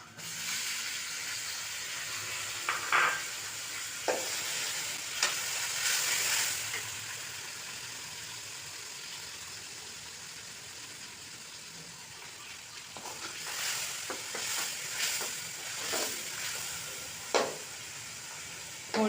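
Chopped tomatoes frying in masala for an aloo matar gajar curry, a faint steady sizzle with scattered stirring scrapes and clinks, soft and close.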